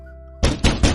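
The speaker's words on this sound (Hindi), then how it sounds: "उनकी खिड़की पर एक दस्तक हुई" Three sharp knocks strike a window at night, loud and close, each a dull thud with a brief rattle, spaced evenly after a quiet start.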